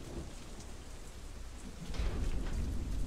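Steady rain pours in a stormy scene from the video game Deadlight, with a low thunder rumble swelling midway and holding loud to the end, no voices over it.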